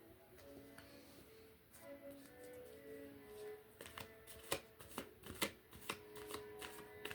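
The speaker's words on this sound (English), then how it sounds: "Let's keep pulling cards." Tarot cards handled and drawn from a deck, soft papery slides followed by a run of crisp sharp flicks and snaps, close and fairly quiet, with faint tonal background sound and no talking.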